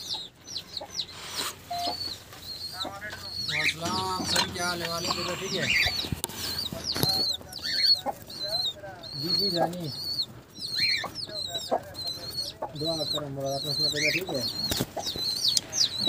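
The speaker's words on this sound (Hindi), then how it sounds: "सेंटी कबूतर हैं, ये बच्चे को फीड करवा रही है।" Pigeons in an aviary, one feeding a chick, with repeated high chirps and squeaks, soft cooing, and bursts of wing flapping close by, while a person talks intermittently.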